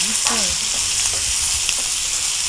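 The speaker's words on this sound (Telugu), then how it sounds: "కొద్దిగా ఉల్లిపాయలు ఫ్రై అవ్వాలి" Onions frying in a pan for chicken curry give a loud, steady sizzle and crackle, with a few scrapes of stirring near the start and no talking.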